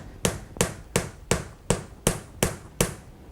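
Seven evenly spaced sharp taps as a large wooden dowel is knocked down into a rustic buttercream cake to countersink it, each knock crisp and close with a short decay.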